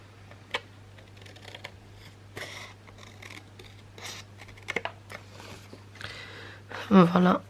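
Scissors cut paper by hand for a winter scrapbook album, giving scattered short snips and rustles at close range, with a louder burst of handling near the end.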